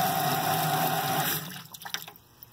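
A steady stream of water splashing loudly against a piece of metal in a physics demonstration, then cutting off into scattered drips and small clinks.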